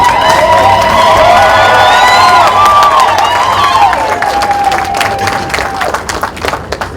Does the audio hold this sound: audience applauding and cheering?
yes